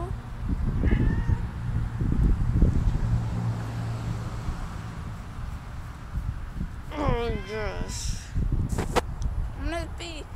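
A cat meows outdoors in several drawn-out, wavering cries near the middle and end, close to the microphone over wind noise and rustling, with a person talking intermittently.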